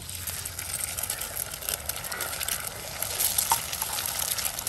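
Eggs and onion frying in a pan for samosa stuffing, a soft continuous sizzle with light stirring scrapes under someone speaking nearby.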